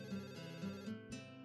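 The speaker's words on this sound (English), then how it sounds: "A soft ringing gives us pause as Lily reaches into her pocket. It becomes obvious that the sounds coming from her phone." Lily's phone rings softly in the visual novel Katawa Shoujo, a faint, steady electronic ringtone with sustained tones that cut off near the end, heard alone without talk.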